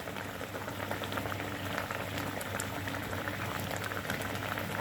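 Prawn and kakrol fritters bubble and sizzle steadily in a pan of hot spiced liquid, a dense continuous boiling hiss close by, with no talk over it.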